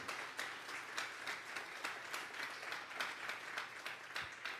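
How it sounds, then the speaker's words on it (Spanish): A church congregation applauds at a Sunday morning service, a steady dense wash of clapping that runs through the whole stretch at a fairly even level, with no voices over it. "Vamos a darle una ofrenda de palmas a Dios en esta mañana."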